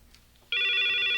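A telephone bell in a 1987 Korean TV drama starts ringing after a quiet half-second, a steady, bright, close electric ring that continues alone.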